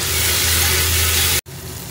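Onion and ground spice paste hit hot oil in a pan for a brinjal masala, giving a loud, steady sizzling hiss that cuts out briefly near the end.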